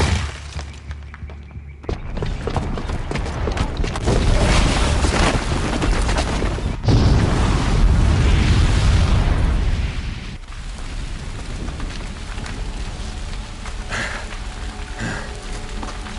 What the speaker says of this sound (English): the booby trap on the bomb downstairs is gonna get set off